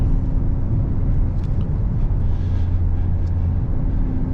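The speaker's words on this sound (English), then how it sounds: "Again, some more downshifts." Hyundai Sonata N Line engine heard from inside the car on a scenic mountain road, a steady low drone with a brief change in pitch midway as it downshifts, no talking.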